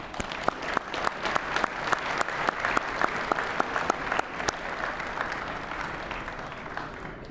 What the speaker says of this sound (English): A round of applause for these gracious companies.